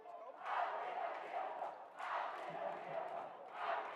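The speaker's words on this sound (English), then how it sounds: "Clinton student section starting, and I believe we have one chant" A student section chants rhythmically at a high school boys' varsity basketball region final, a distant rolling roar of many voices rising and falling in waves, fairly faint.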